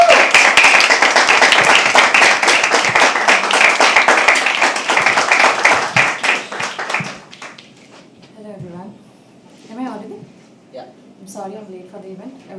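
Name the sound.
audience clapping at poetry open mic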